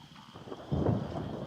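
Thunder from a storm over grassland plains gives a short, deep rumble that swells midway and sits over a steady wash of rain and wind noise.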